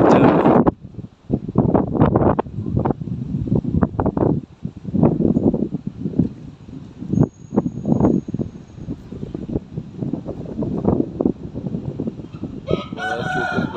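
Gusty wind buffets and roars in uneven bursts for the whole stretch, loud and close, with faint bird calls underneath.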